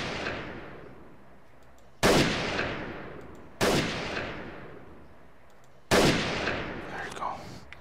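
Gunfire in the Freeman Guerrilla Warfare game: four loud, sharp shots spaced about two seconds apart, each followed by a long echoing decay, the last with faint extra crackle.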